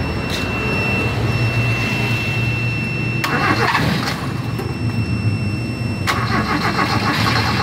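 A car engine cranks repeatedly on a portable jump starter in cool weather, a loud rhythmic churning in a few bursts that fails to catch into a run.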